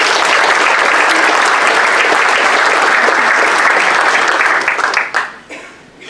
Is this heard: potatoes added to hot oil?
no